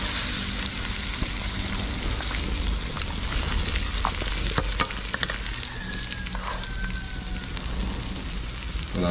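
Chili garlic prawns fry in a pan with a dense, loud, rain-like sizzle and crackle, close by and steady, with a few sharp spatter pops.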